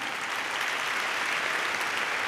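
Sustained applause from a graduation ceremony audience greeting a graduate as names are read, a dense, even roar of many hands clapping throughout.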